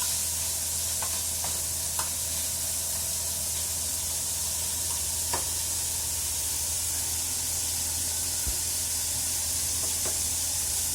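Pork sizzling with vinegar in a pan, a loud continuous hiss of frying with occasional faint scrapes as it is stirred, close and without talk.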